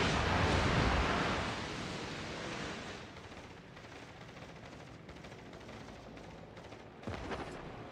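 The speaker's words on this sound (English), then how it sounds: "Provide anti-aircraft fire support." Anti-aircraft gunfire from a destroyer in the World of Warships naval video game: a dense, rumbling roar of rapid distant bursts, loudest at first and then easing into a continuous wash with a sharper crack near the end.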